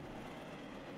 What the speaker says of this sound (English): The train could have ran me over if I did not switch.